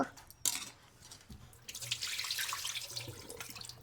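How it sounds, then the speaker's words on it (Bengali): Small cut pieces of paan alu (yam) are washed in water, with splashing and pouring that comes in irregular bursts, briefly quiet and then steady and sloshing near the microphone. "এই আলু একটু ধুয়ে নিই এই যে আলু এখন ভালো করে ধুয়ে নেব"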